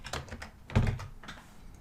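A short burst of typing on a computer keyboard, several quick close clicks with one heavier thunk in the middle, fairly quiet, with no talking.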